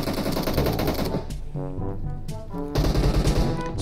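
Automatic weapon spray fire in PUBG Mobile, played on an iPad 6 (2018): dense rapid bursts of gunshots, loud and close, with a short lull in the middle before a fresh burst at the end.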